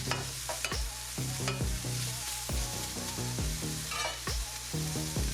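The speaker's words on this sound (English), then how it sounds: "Just gonna simply mix that up, making sure that gochujang gets over all that turkey" Turkey coated in gochujang being stirred in a frying pan, with repeated scraping strokes of the utensil over a steady sizzle, close and fairly loud with no talking.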